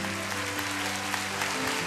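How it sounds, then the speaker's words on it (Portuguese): A church congregation applauds the Lord Jesus during a Brazilian evangelical service, a steady wash of clapping running beneath sustained instrumental music for about two seconds. "Vamos aplaudir mais o Senhor Jesus."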